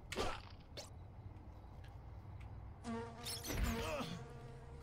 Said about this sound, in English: Oh, more bees. I hate these bees.